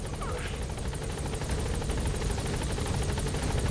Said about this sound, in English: All we gotta do now is get Kaz onto the helicopter, which is easy.